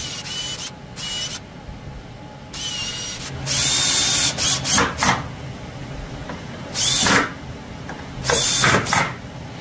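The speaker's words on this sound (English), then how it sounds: "So let's go ahead and drill these holes." A power drill whines in repeated bursts of a few seconds each, drilling holes in a wooden hall tree, with brief pauses between, close and loud with some mechanical rattling.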